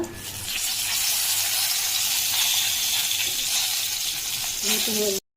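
Dried red chilies and bay leaves sizzle in hot oil as a tempering for mung dal, giving a loud, steady, crackling hiss that runs unbroken and then stops abruptly.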